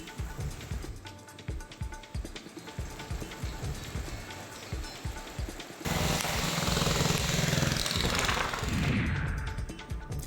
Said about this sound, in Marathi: अवकाळी पावसानं जोरदार हजेरी लावली